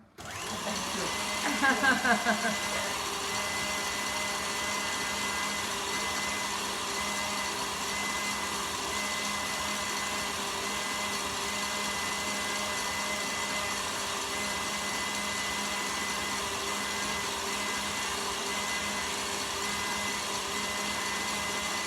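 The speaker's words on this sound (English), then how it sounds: "I'll just try and shout over the mixer" An electric kitchen mixer whirs steadily for the whole stretch while macarons are being made, a loud continuous motor drone with a brief louder surge near the start, and voices talk over it.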